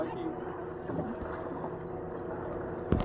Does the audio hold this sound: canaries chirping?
no